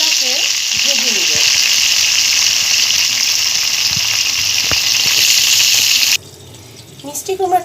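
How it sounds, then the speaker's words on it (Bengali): Vegetables fry in oil tempered with five-spice and three dried red chillies, giving a loud, steady sizzle that cuts off near the end, followed by brief clattering and a voice. "এখন আমি এই ফোড়ন দেওয়া তেলে সবজিগুলোকে ভেজে নিব।"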